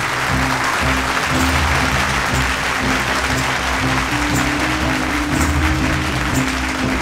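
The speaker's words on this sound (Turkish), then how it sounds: "Sancaktar Kozmetiğin yönetim kurulu başkanı Kerem Sancaktar'ı alkışlıyoruz." Audience at an evening company event applauds steadily and loudly in a thick, even wash of clapping that runs unbroken for about seven seconds, with faint background tones underneath.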